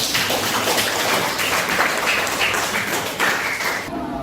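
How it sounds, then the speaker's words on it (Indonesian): Students in a classroom applaud together, a dense, steady wash of many hands clapping that holds for about four seconds before cutting off. "Tepuk tangan dulu semuanya."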